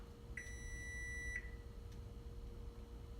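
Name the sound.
oven timer beeping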